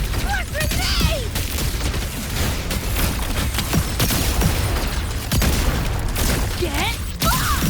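Video game cutscene battle with dense, continuous gunfire and grenade blasts, loud and close, a rolling barrage of bursts and booms with voices shouting over the chaos.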